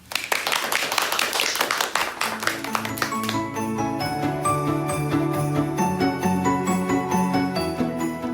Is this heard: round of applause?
yes